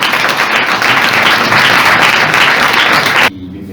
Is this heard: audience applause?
yes